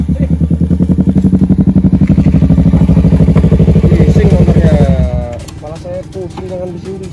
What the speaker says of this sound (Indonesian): Itu ada motor.